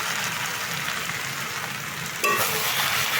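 Mustard spice paste hits a hot frying pan in a Bengali okra and fish roe dish, giving a steady close hiss that jumps louder and brighter as the paste goes in, with no talking.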